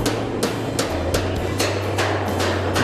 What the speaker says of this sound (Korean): 하루도 빠짐없이 매일 이런 망치질 소리가 울려 퍼진다.